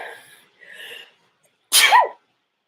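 A single sharp, loud sneeze from a woman, preceded by two soft breathy inhalations and followed by silence.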